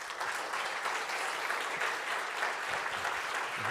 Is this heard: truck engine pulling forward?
no